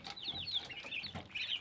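Domestic desi chickens clucking in a close, busy chorus as they eat, with overlapping short calls throughout and no talk.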